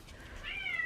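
An excited house cat gives one faint, drawn-out meow that rises and trails off, heard close over low room noise.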